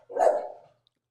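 A single short dog bark, close and clear, standing alone against silence.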